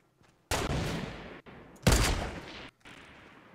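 Bolt-action rifle fire in the Fortnite video game, two loud close gunshot bursts with reverberant tails separated by short gaps, heard alone without talk.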